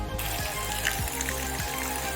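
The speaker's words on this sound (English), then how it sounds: "Just before reaching Pung Bugyal, you get a water source here." Water from a mountain spring flows and splashes steadily nearby on a trek near Pung Bugyal, a continuous rushing trickle with no voices.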